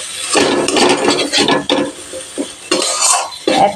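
A spoon stirs masala spices in a pan while cooking masala bati, giving repeated loud scraping and clinking strokes with light sizzling between them.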